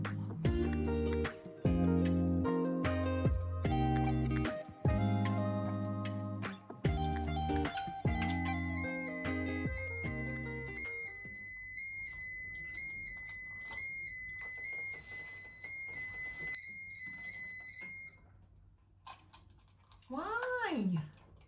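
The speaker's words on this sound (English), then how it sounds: "why putting that case back on would be tripping the alarm?" A house alarm goes off after a case is put back on, sounding as steady high-pitched repeating beeps that carry on for several seconds after clattering handling noises, with a brief voice near the end.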